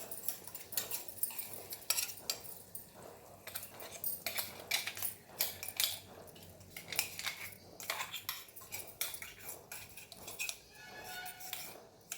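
A utensil scrapes and clinks irregularly against a pan while bael fruit chutney ingredients are stirred and mixed, close and fairly quiet, with no talking.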